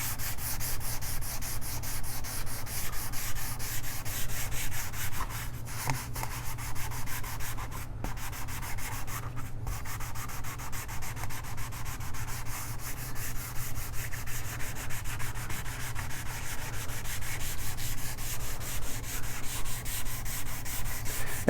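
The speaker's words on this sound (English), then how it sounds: "Make sure you sand all these areas." Sandpaper rubbed steadily over the wooden body of a Leo Jaymz BC kit guitar: a continuous close scratchy hiss with brief pauses near the middle, no talking.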